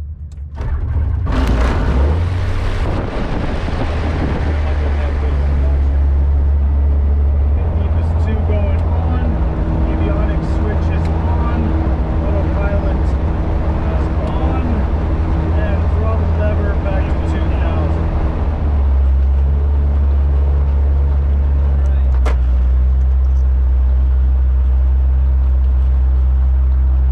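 A steady, loud Sling 2 light aircraft propeller engine drones throughout, with a sharp burst as it starts and people speaking over the running engine.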